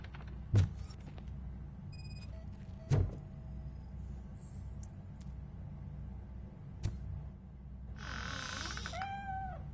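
A cat meows in the Robocop Rogue City video game, with a rising two-part cry near the end over a low steady game ambience and a few sharp thuds earlier.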